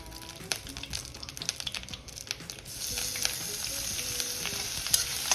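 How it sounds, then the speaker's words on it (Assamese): Ginger and garlic paste dropped into hot frying oil left from fish, scattered crackles and utensil taps at first, then a louder, denser sizzle swelling up and holding steady. "এতিয়া মই এইটো ভজা তেলখিনিতে আদা নহৰু দি দিম"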